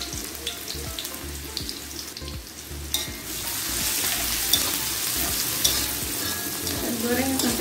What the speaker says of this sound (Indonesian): Dan di sini saya akan menumis bawang dengan menggunakan minyak yang sama tadi bekas goreng tahu ya.